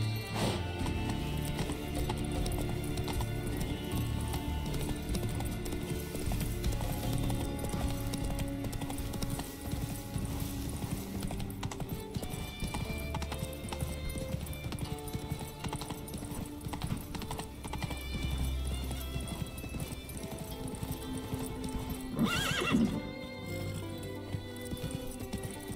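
A horse gallops in The Witcher 3 video game, its hooves clip-clopping in a fast, continuous rhythm with a brief neigh partway through.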